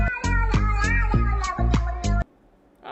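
A cat meows repeatedly in a loud, close, drawn-out series of calls, some rising and falling in pitch, over game music, then a brief quiet gap before a faint fresh sound.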